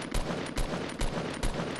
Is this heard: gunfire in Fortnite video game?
yes